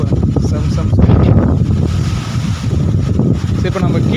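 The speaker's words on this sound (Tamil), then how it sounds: "காற்று தான் பயங்கரமாக விசுன்னு." Strong wind roars across an open mountain viewpoint near Salem in early summer, a continuous loud gusting rush with heavy buffeting on the microphone throughout.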